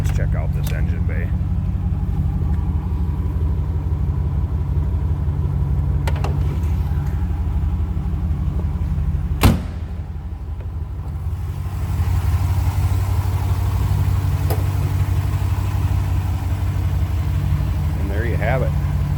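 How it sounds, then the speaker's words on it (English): A 1990 Chevrolet Corvette ZR1 V8 engine idles with a deep, steady rumble, continuous throughout, with a person talking briefly over it. "What a beautiful sound. Great sounding car."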